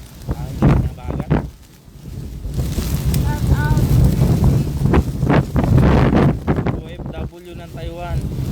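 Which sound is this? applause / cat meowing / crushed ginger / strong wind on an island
strong wind on an island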